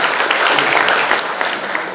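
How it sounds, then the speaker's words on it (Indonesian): An audience at an Indonesian motivational seminar applauds, a dense, loud wash of many hands clapping at once that holds steady for two seconds with no voices over it. "kasih tepuk tangan"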